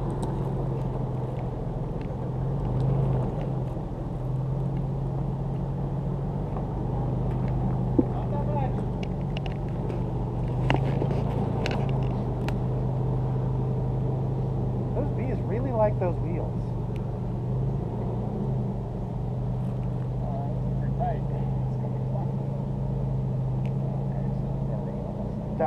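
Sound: off-road vehicle engine crawling slowly

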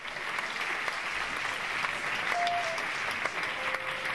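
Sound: applause

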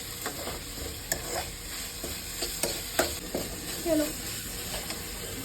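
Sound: stirring and frying crushed tomatoes in a pan

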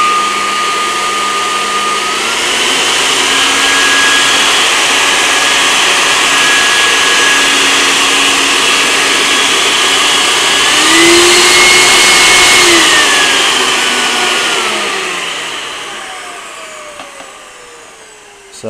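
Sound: variable speed blower running on wood gas setup

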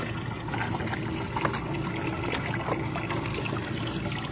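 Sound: water flowing through oyster upweller buckets and trough

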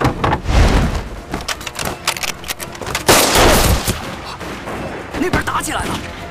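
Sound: gunfire in a fight

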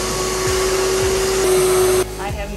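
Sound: vacuum cleaner powered by Battle Born batteries in a bus conversion

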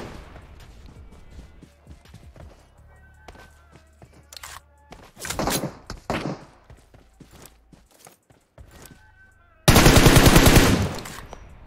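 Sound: random gunfire in the video game PUBG Mobile

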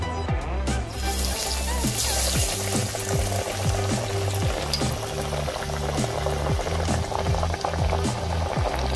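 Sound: dal vada balls frying in hot oil

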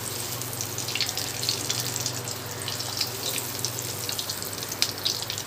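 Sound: aloo chicken cutlets frying in hot oil in a pan

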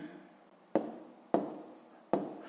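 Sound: pen writing numbers for column multiplication

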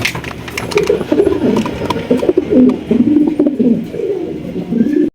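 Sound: racer pigeons cooing and calling

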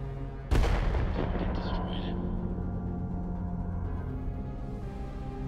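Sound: proton torpedo attack in video game Earthless

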